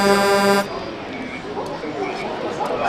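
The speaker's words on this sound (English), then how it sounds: "Don't forget to honk the horn." A loud horn blares with sustained harmonic tones for about half a second, then cuts off, leaving background chatter and noise.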